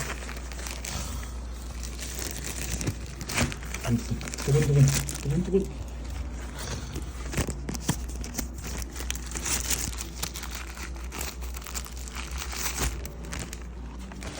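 Plastic film being peeled off a new Keychron K8 Retro mechanical keyboard, close crinkling and tearing rustles running throughout while someone talks over it.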